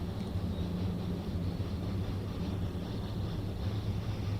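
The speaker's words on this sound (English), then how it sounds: "I think we're waiting for that train there." Continuous low mechanical rumble of a train idling or running on the Arosa Line in Train Sim World 2, steady and close, with no voices.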